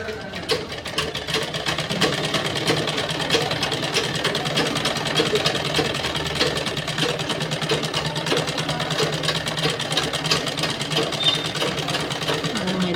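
A domestic sewing machine stitches lace in a fast, steady mechanical whir and clatter, close and continuous throughout, with no pause in the rhythm.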